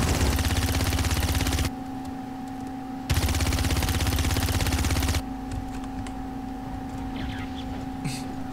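Bursts of rapid automatic gunfire from a video game, two long volleys separated by pauses, gun sound lingering, with steady electronic background tones and faint game sounds.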